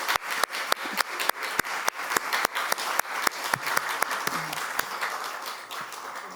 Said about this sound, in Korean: 환영의 박수 드리겠습니다